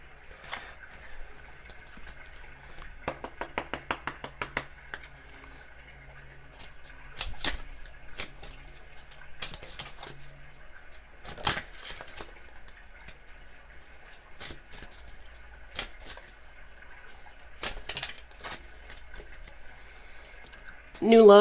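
Tarot advice cards are shuffled in a brief burst of rapid riffling near the start, followed by scattered soft card slaps and handling sounds at close range, with a voice speaking at times.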